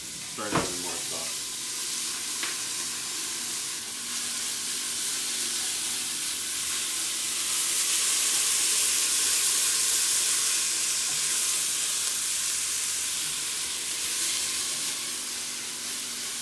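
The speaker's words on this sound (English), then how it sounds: "now that the onion is starting to kind of get cooked" Onion frying in a pan, a loud continuous sizzle and hiss close up, with a few clinks of stirring near the start.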